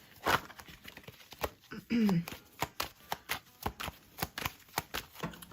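Tarot cards being shuffled by hand, giving quick repeated papery riffles and soft taps in an irregular rhythm, close and fairly quiet.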